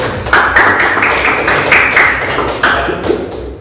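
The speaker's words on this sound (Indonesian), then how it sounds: "Tepuk tangan buat Mas Bagas dulu." Applause for Mas Bagas in a classroom, a dense burst of hand clapping from a group that holds steady for a few seconds, close and fairly loud.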